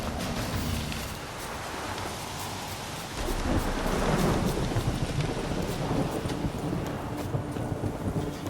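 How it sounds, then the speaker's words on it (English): Heavy rain in the video game The Witcher 3 pours down in a dense, continuous roar, swelling louder partway through with deep thunder-like rumbling underneath. "This downpour's a bastard, it is."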